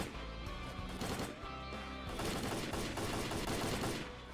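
Video game gunfire during a zombie fight, dense bursts of rapid shots and crashes filling the whole clip, loud and continuous.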